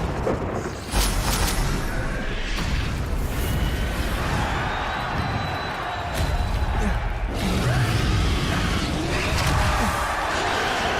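The Bombarda spell blasts in Hogwarts Legacy, producing booming explosions and crashing impacts amid battle effects, loud and sustained with rumbling bursts and some faint voices mixed in.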